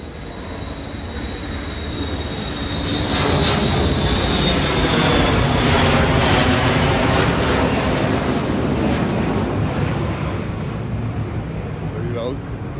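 A loud military aircraft roars past near a military airport during an outdoor walk, a dense, steady, rumbling engine noise that swells and holds for the whole stretch, close and overwhelming.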